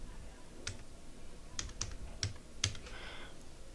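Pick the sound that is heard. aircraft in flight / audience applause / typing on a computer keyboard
typing on a computer keyboard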